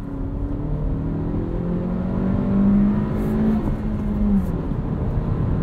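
A 2022 Honda Civic Sport Touring manual hatchback engine drones steadily and rises in pitch as it revs up, then eases back, heard from inside with a constant road rumble.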